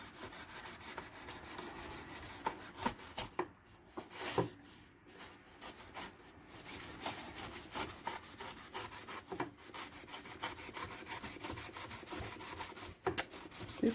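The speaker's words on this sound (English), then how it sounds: "cut the pineapple now" A dull knife saws back and forth through a whole pineapple, a rough, repeated rasping and scraping with short strokes and brief pauses, close but quiet, with no one speaking.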